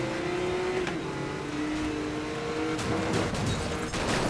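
A car in Need for Speed: Most Wanted (2012) accelerates with a steady, rising engine drone and a tonal whine, loud and continuous, with brief hissy bursts near the end and no speech.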